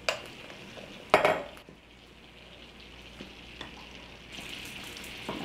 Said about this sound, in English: here I'm melting the butter in the Æbleskiver pan